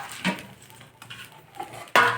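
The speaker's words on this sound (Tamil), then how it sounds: "இப்போது வேறு ஒரு தட்டில் கொட்டி" Roasted lentils and curry leaves being tipped from a pan onto another plate, a few dry clinks and scrapes of metal ending in a louder rattling pour, nearby and with no voices.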